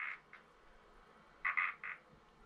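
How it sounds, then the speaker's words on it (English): A frog croaks in short nasal bursts, a couple at first and then a cluster of three or four loud close croaks after a pause, with no other sounds. "I don't mind him doing his frog thing during the day,"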